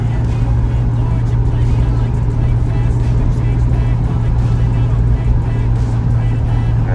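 Suzuki Jimny fitted with 80mm lift coils driven fast around corners at about 110, giving a steady, loud engine and road drone with wind roar that runs throughout without break.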